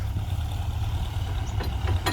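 A Kubota L4708 tractor idles with a steady, loud low-pitched rumble that never changes. It sits against a pile of dirt, and no one speaks over the engine.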